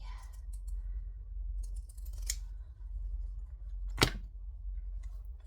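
Zigzag pinking scissors trimming the fabric seam allowance of a bag lining, giving a couple of short, crisp snips close by, with a sharp cut near the end, over a low steady room hum.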